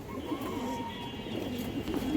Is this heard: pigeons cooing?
yes